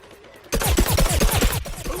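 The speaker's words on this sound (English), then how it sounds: "Now the Agent P has a suppressed, silenced pea cannon." The suppressed pea cannon in Plants vs. Zombies Garden Warfare fires a rapid burst of close, punchy muffled shots in quick rhythmic succession after a brief quiet lead-in.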